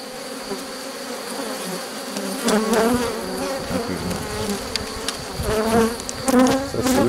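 Honey bees swarm over an open hive during the rescue of a drone-laying colony, filling the air with a dense, continuous buzz close at hand that swells in bursts, with no voices.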